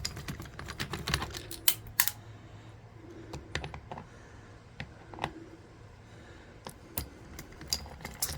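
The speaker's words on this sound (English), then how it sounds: "So we'll just take off these screws here." Small screws being backed out of a door lock, a close run of irregular light clicks, ticks and metallic taps with quiet gaps, no talking.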